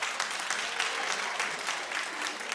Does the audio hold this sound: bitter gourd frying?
no